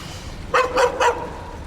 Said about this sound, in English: that dog don't like you, Swan.